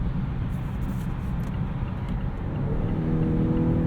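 A 2020 Mazda CX-9 Signature AWD SUV's engine drones steadily from inside the cabin, its tone building as the vehicle accelerates toward the end.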